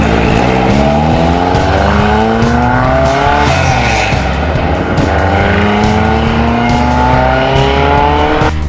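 Rally car on a barren Baja road in Mexico, its carburetted engine droning loud and close with rising and falling pitch as it revs through gears, accompanied by tire noise.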